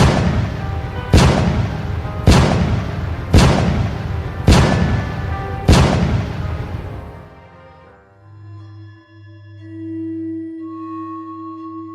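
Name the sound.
distant cannon shots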